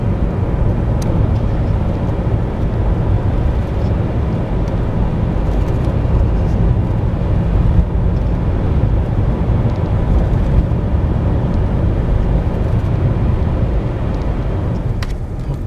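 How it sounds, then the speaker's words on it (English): Steady interior rumble of a car cruising along country roads near Mansfield, Ohio, constant road and engine noise at an even level without speech. "Drive in the country getting to these places."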